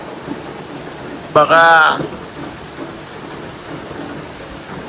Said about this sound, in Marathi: हे पाऊस किती जोरात पडू राहिलाय